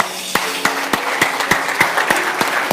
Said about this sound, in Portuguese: Eu queria que a gente pudesse se aplaudir mutuamente.